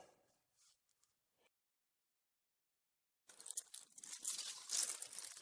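Wax paper crinkling and tearing close by while a book's end paper is prepared for binding, a brief rustle, a long silence, then a loud sustained run of crackling and handling noise.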